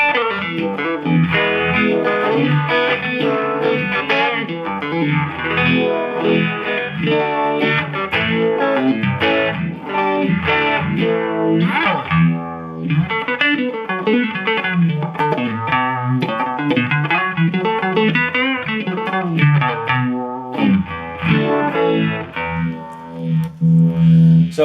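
Electric guitar through a TC Electronic Viscous Vibe pedal on its stock tone print, played with distortion and a swirling, pulsing modulation as chords and riffs ring out continuously and loudly, with no talking.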